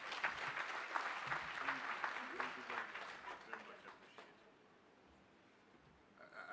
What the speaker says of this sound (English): I don't think that's enough round of applause for USAID.